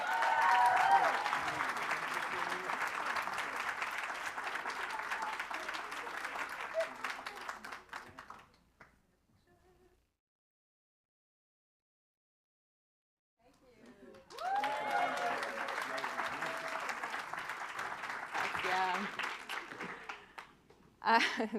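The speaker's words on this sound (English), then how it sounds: "give them a round of applause anyway" Audience applause at an afternoon plenary of a challenge finals event, a broad sustained wash of many hands clapping for about eight seconds, then a lull of near silence before a second loud round of applause swells up.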